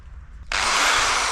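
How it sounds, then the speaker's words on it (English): A power drill boring holes into wood while building a trellis, starting abruptly after a quiet moment and then whirring loudly and steadily to the end. "Drilling time. So what we're gonna do now is just, you know, drill 4 holes."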